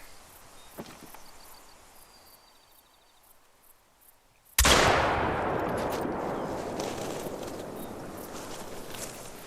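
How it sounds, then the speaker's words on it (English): One loud, close shotgun blast in the hunting game theHunter Call of the Wild, breaking a quiet outdoor stretch and trailing off in a long rolling echo. "Gonna try a shotgun."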